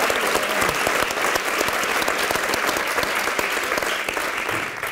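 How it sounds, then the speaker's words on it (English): A large conference audience applauds a panel of speakers, loud dense clapping sustained evenly throughout with no voices over it. "Please join me in applauding this wonderful group of panelists."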